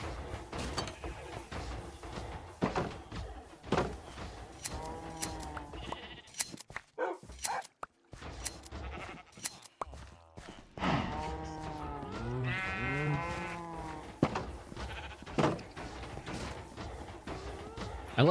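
Sheep bleat repeatedly at close range, several animals calling in overlapping bursts between short pauses, with a person talking at times in between.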